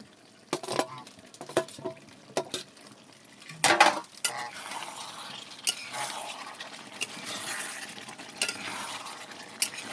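Kohlrabi going into a pot of buffalo meat, with sharp clanks of a spoon against the pot, a burst of tumbling pieces and a soft simmering sizzle between the knocks, quiet and close with no voices.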